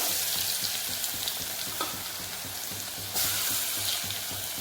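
Garlic sizzling in hot oil with mustard seeds and fenugreek for a tomato rasam, a steady, close crackling fry with faint stirring and a brief louder burst near the end.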